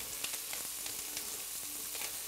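Tortillas warming for tacos in a hot pan, giving a steady close sizzle with faint crackling and occasional light pops throughout.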